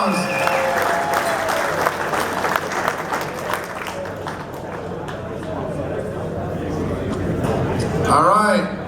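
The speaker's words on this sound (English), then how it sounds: "folks, give him a round of applause." Crowd applause at a bass fishing tournament weigh-in at Lake Mead, steady clapping for several seconds under an announcer's voice, with a louder burst of noise near the end.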